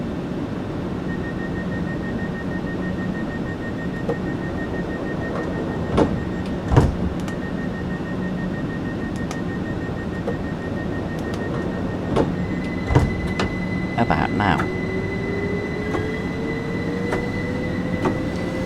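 A train pulling away in Train Sim World 5 on a Brighton route, with a steady rolling rumble, rail clatter and bursts of sharp wheel squeal, plus a sustained high tone rising near the end.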